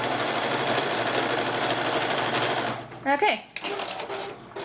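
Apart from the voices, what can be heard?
sewing machine stitching over pins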